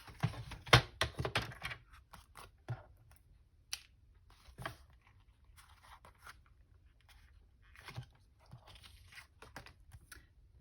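Scissors cutting through strong packaging card to make tags, a few close crisp snips and crunching cuts, busiest at the start and then sparse with quiet gaps.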